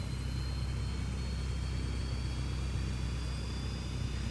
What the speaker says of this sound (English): The cockpit sounds, the sound set on this airplane alone is very, very good.